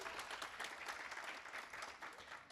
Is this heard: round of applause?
yes